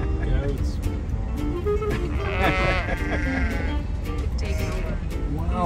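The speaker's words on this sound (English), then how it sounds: "These are sheep. Little cows. Sheep, goats." A flock of sheep and goats on open ground in Mongolia bleat repeatedly, several animals calling at once at close range, while people talk over the calls and a vehicle engine rumbles underneath.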